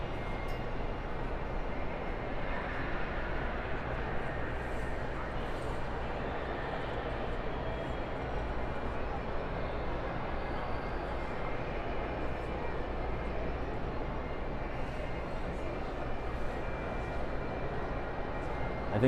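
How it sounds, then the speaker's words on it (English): A large, busy indoor hall inside Grand Central Station in New York City fills with a steady, dense crowd murmur and reverberant rumble, constant and even throughout with no single voice standing out. "we are now inside Grand Central Station."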